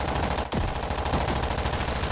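A minigun fires in the World War Z: Aftermath video game, a dense, continuous rattle of rapid gunfire filling the whole stretch, loud and unbroken, with no talk.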